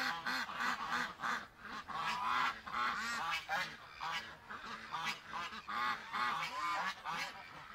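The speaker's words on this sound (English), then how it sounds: "Look at the geese." Geese crowded at the gate of their pen honk repeatedly in loud, overlapping bursts, a steady chorus of nasal calls close by.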